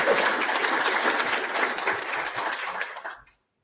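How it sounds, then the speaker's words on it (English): An audience applauds at the Develop:Brighton 2024 games industry conference as a speaker crosses the stage; a dense, steady burst of clapping fills the room for about three seconds, then cuts off abruptly. "Let's applaud you as you come across the stage."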